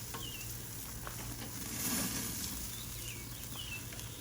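Chicken thighs sizzle faintly on an outdoor grill with a steady low crackle, and birds chirp now and then in the background.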